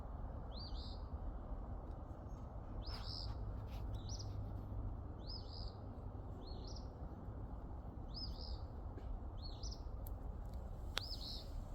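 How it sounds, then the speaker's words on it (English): A small bird in an outdoor garden repeats a short, sharp chirp about every second over steady background hiss, distant and faint, with no voices. "Is a bird getting my attention?"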